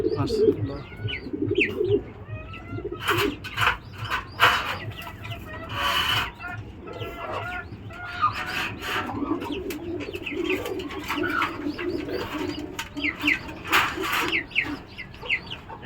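Imported racing pigeons coo and rumble continuously in a close group, with overlapping soft throaty calls and occasional sharper clucks, while someone talks faintly in the background.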